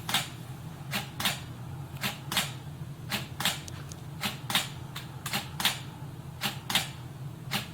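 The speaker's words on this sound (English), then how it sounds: "you can hear it taking some pictures" Canon camera shutter firing under intervalometer control for time-lapse, about a dozen sharp close mechanical clicks at roughly even intervals over a quiet background hum.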